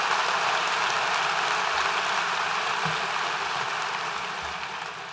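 Sustained applause from an audience honoring a group of students at a school scholarship recognition event, a steady dense wash of clapping that fills the clip and fades slightly toward the end.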